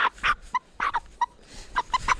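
A chicken gives agitated, broken squawks and clucks in short bursts, close by and fairly loud, with no talking.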